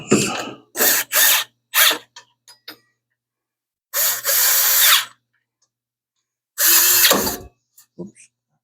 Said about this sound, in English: Where's that drill?